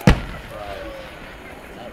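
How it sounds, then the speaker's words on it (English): A single sharp firework boom at the start, then a fading rumbling tail; outdoors, fairly distant, at a Fourth of July display. "Now that's a firework."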